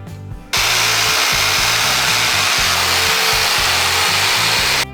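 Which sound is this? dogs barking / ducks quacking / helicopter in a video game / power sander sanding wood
power sander sanding wood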